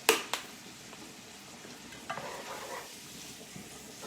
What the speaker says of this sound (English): So again, it is just getting the flavoring stirred in here.